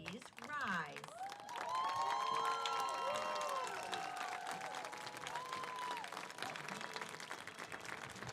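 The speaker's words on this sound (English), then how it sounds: "Everyone, please join me in standing and applauding our seniors as they recess out of the stadium." A stadium audience stands and applauds graduating seniors at a senior intent night. The clapping is faint and distant, with a voice and some tonal sounds over it.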